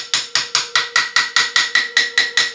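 About eleven evenly spaced sharp metallic taps ring out in quick regular rhythm, close and loud, with a sustained tonal ring between strikes, like hammering on metal held tight in vice grip locking pliers.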